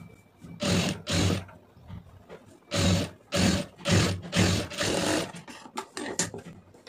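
A sewing machine stitches a blouse neckline in a series of short bursts, each lasting under a second with brief pauses between, loud and close with no talking.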